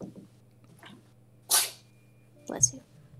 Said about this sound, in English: You hear an adorable sneeze.